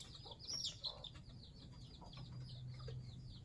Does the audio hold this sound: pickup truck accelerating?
no